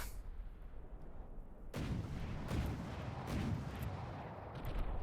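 Rapid weapon fire with heat shells in a video game battle: a quiet hiss, then a burst of heavy booming shots and impacts that continue in overlapping blasts.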